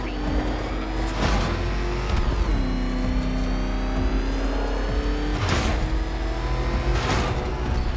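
Batmobile engine in Batman: Arkham Knight revving and accelerating continuously, loud and close, with pitch sweeps as it speeds up and shifts, and a few sharper bursts over a steady roar.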